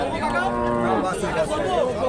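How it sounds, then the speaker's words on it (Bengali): A Sahiwal cow moos in a long, low drawn-out call nearby, with faint background chatter. "আমার সামনে খুব সুন্দর একটা শাহিওয়াল জাতের গাভী"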